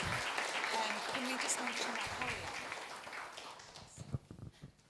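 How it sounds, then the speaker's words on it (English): Applause from an awards ceremony audience, a fairly soft, steady patter that fades away near the end as speech takes over. "let's give them all a big round of applause as well"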